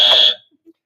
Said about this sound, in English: You need to be quicker on the buzzer.